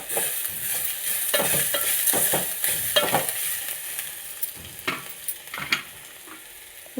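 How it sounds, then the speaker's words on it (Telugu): Onions sizzle steadily in a pan for a brinjal and black gram curry, with a bright frying hiss throughout and repeated scraping clicks as a spoon stirs them, close and fairly loud. "ఇప్పుడంటే ఉల్లిపాయలు వేగినాయండి."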